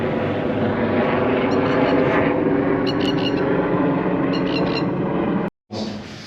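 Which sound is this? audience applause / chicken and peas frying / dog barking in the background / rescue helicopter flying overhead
rescue helicopter flying overhead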